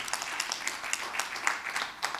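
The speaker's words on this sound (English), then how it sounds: "Give a round of applause for our esteemed panelists here today." Church audience clapping for a panel of guests, a modest spread of applause with distinct individual claps in an irregular patter, moderately close and sustained throughout.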